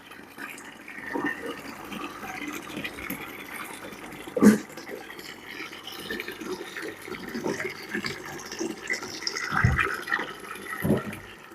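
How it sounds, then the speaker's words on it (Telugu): Water gurgles and trickles steadily as it drains from an aquarium through a siphon pipe, with a few sharp knocks and faint voices in the background. "ఇప్పుడు ఈ వాటర్ అంతా తీసేసుకోవడం ఇలా."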